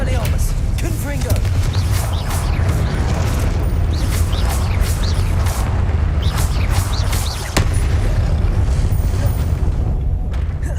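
Fiery Confringo spell blasts in the wizarding game Hogwarts Legacy, a dense run of booming explosive bursts and crackling impacts over a constant loud rumbling battle bed, with a sharp hit near the end.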